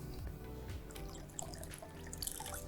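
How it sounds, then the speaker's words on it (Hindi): A small amount of water poured into beaten yogurt for phulki, a soft, faint trickle with light drips and splashes under a low background hum, with no voices. "अब इसमें हम डाल देंगे थोड़ा सा पानी"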